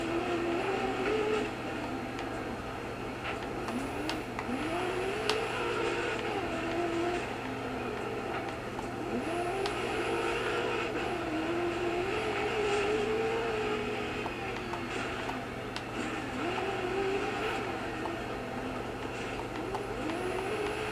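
Rally car engine in the racing video game Dirt 4, a steady droning motor with repeated revving swells and gear changes over twenty seconds, moderately loud and continuous with no talk.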